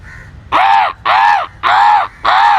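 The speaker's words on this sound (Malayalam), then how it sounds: "ഈ ആളുടെ സൗണ്ടും കാക്കയുടെ സൗണ്ടും ഒന്നാ പറഞ്ഞു തുടങ്ങി" Four loud, harsh crow caws in steady rhythm, close by, from crows gathered in trees, following a faint lead-in call.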